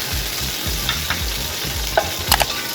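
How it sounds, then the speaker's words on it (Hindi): Whole garam masala spices sautéing in about a cup of hot oil in a pot for mutton yakhni biryani, a steady close sizzle with a few sharp spoon clinks and scrapes toward the end, no voices. "इनको हल्का सा सौते करेंगे।"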